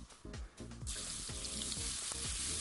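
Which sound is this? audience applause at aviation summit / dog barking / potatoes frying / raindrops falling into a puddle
potatoes frying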